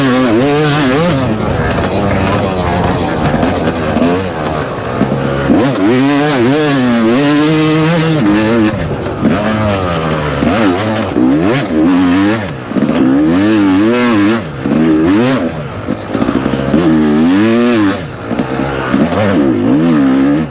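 Yamaha YZ250X two-stroke dirt bike engine revving hard and repeatedly, loud and close, with rising and falling pitch sweeps over about twenty seconds on a mountain trail.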